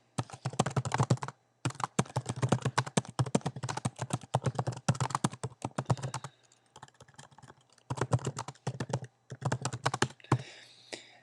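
Fast typing on a computer keyboard while a video name and description are entered, with dense bursts of close key clicks broken by short pauses.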